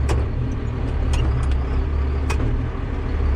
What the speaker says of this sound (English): Yep, still clunks